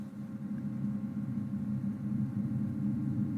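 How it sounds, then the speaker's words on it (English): A steady, low rumbling drone sonifying Saturn's rings of rock and ice particles, with a hissy, noisy texture, constant and even throughout with no distinct events. "This is the sound of the rings of Saturn."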